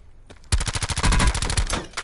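Rapid automatic gunfire in the Call of Duty Black Ops 4 Blackout battle royale game, a loud close burst of evenly spaced shots after a brief quiet start, firing continuously to the end.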